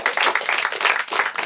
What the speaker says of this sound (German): Applaus für diese Bam Bam.